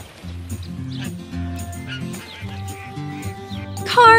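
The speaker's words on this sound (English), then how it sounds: "Cars, do you hear who's quacking?" Several quacking rubber ducks in a children's cartoon over steady background music, with a brief bright chime near the end.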